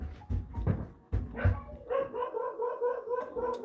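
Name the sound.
dogs barking in the house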